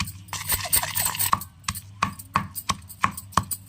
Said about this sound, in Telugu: రోట్లో వేసి దంచేస్తున్నాం చూడండి